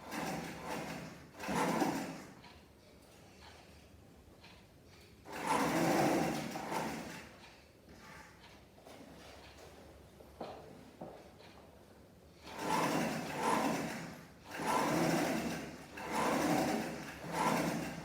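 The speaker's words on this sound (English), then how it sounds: "Remember to avoid stretching when you're stitching in the sleeve" A sewing machine stitches a sleeve into a blouse in several bursts of steady whirring, a few seconds each, separated by quieter pauses.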